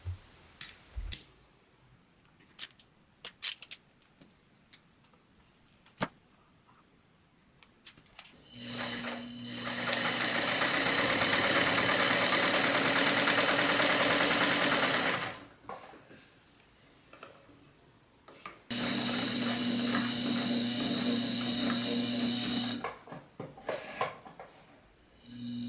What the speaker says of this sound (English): Now I'm just going to put the motor back together and button up the whole machine so that we can see how well this project turned out.